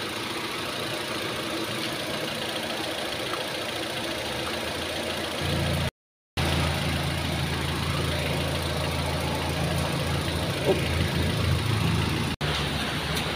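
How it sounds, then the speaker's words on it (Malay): Car engine idling steadily after running for several minutes, a continuous low rumbling drone that stays even and fairly quiet throughout, with a brief cut partway and a slight change in tone afterward. "enjin saya dah hidupkan selama 5 minit"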